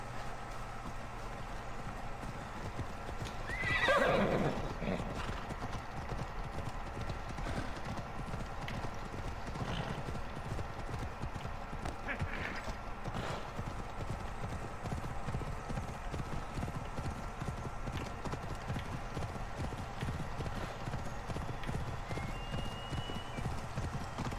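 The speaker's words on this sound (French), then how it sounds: "On va appeler le cheval parce que c'est lent." Horse hooves clip-clopping at a fast gallop with a whinny near the start, from the Assassin's Creed Odyssey video game, the rhythmic hoofbeats running continuously and fairly loud for the whole stretch with faint background game sound.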